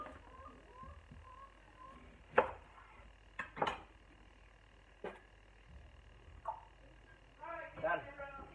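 Rough chopping of carrot, celery and onion with a knife for bone broth: a handful of sharp, irregular knife strikes on a board, quiet and spaced apart against a soft background.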